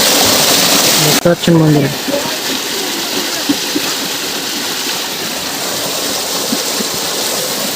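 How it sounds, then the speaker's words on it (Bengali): Floodwater pours out of a village after heavy overnight rain, a constant rushing wash heard close by, with a voice speaking briefly over it near the start. "আর এই পাশ দিয়ে জল বেরোচ্ছে দেখুন।"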